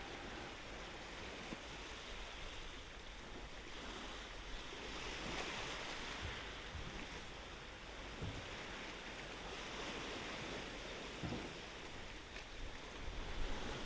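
Ocean surf on the shore at Port Louis in Morbihan, Brittany, a faint, steady wash of breaking waves with occasional soft thumps, heard alone without voices.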